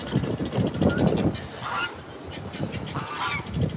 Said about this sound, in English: That goose is such a goofball.